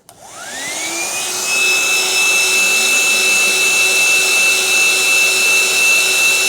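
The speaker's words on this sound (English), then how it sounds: "So now we will dry this solvent using this dryer." An electric hand dryer blows hot air to evaporate solvent from an HPTLC plate, its motor spinning up from a start into a loud, steady high-pitched whine with a strong fixed tone, running alone.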